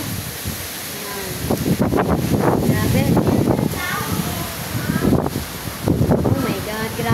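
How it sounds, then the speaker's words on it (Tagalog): Strong typhoon wind during Typhoon Tino buffeting outdoors in gusty, rushing surges with rustling and water noise, while a person speaks over it. "Ito na ang weather sa amin. Bagyong Tino. Malakas naman kahit paano"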